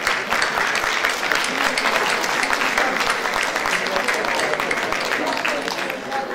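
Sustained applause from a concert audience at a choir performance, dense and steady hand clapping filling the room without pause.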